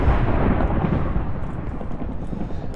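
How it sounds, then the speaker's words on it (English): Sustained deep rumbling of thunder echoing through the underground caves of modded Minecraft (FtB Infinity, version 1.7.10), a loud, continuous low roll lasting the whole moment with no voices. "I hear plenty of lightning down here, or thunder, whatever."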